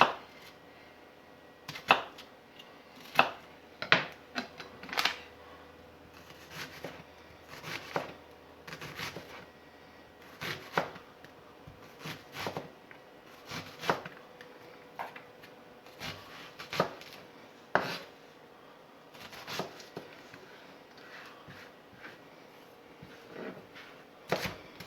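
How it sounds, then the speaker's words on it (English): A knife chops a red onion on a cutting board in sharp, distinct taps, irregular and sometimes bunched in quick runs, close and fairly quiet against a hushed room. "Just go ahead and just chop it up really thin or small."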